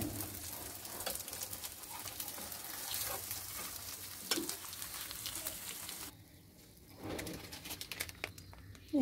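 An egg frying in a pan on a gas stove, a faint steady sizzle that drops away partway through as the gas is turned off, with no talking.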